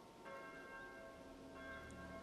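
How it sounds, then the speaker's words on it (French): A church bell rings the Angelus, its steady tone held through a faint, sustained resonance with no talking over it. "c'est simplement la cloche d'une église qui sonne l'Angélus"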